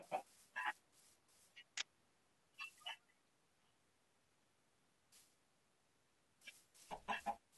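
Chickens in the Minecraft video game give short, scattered clucks in small bursts, some close and clear, with quiet gaps between them.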